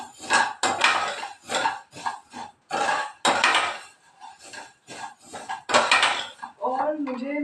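A spoon scrapes and clanks against a bowl while Maggi noodles are mixed, uneven bursts of close metallic clatter separated by short pauses, with a voice speaking briefly at the end.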